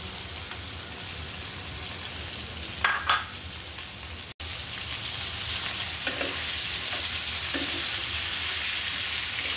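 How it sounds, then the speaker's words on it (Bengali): Pointed gourd (potol) frying in hot oil with salt and turmeric, a steady close sizzle running throughout, with a few brief clinks and stirring scrapes near the start and a louder hiss building later. "পটলগুলো তেলের মধ্যে লবণ আর হলুদ দিয়ে ভালো করে একটু ভেজে নিব"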